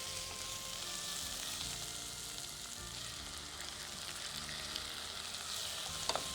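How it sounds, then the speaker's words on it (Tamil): Onions with tomatoes sauté in a pan, making a faint, continuous frying hiss with a few small stirring clicks near the end, steady and without voices. "இந்த வெங்காயமும் ஓரளவுக்கு வதங்கிடுச்சு நல்லா. இப்போ இதில் நம்ம தக்காளி சேர்த்துக்கலாம்."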